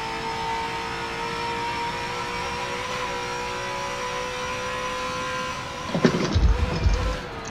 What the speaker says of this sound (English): So we shouldn't be hitting the limiter in fifth gear there.